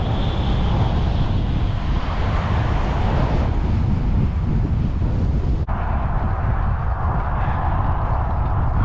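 Strong headwind buffeting a cyclist's microphone on a steep uphill road ride near St. Jo, Spanish Fort and Nocona, Texas: a loud, constant low rumbling roar with no pauses, filling the whole stretch without voices.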